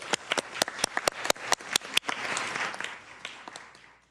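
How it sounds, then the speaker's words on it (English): Scattered applause breaks out at a city council meeting: a dozen or so sharp, distinct claps at first, then a brief denser patter that fades out after a few seconds. "Another round of applause, please."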